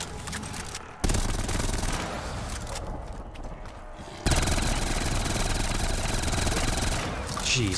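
AS-44 rifle fire in Call of Duty Zombies, a dense, continuous rattle of rapid automatic shots loud and close, running almost unbroken with brief shifts in intensity and other game effects mixed in.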